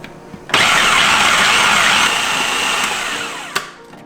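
A blender pulsing carrot cake batter ingredients with orange zest, one sustained whirring motor run of about three seconds that starts abruptly, eases slightly and stops, followed by a faint clunk.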